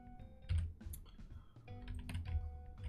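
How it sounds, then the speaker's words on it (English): Rapid, uneven typing on a computer keyboard with a failing W key, close and fairly quiet, clicks scattered densely through the whole stretch with no voices. "my W button is starting to fail on my keyboard here"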